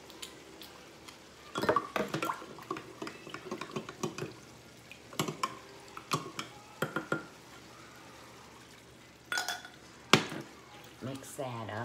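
Diluted tomato paste poured into a goulash pot and stirred, with scattered clinks and scrapes of a utensil against cookware, soft pouring and liquid sounds, and brief kitchen knocks.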